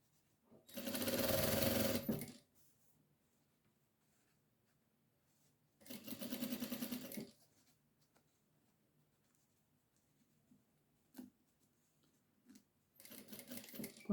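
A sewing machine stitches a hem on a baby bib in three close, whirring bursts of rapid stitching, with near-silent pauses and light handling noises between them.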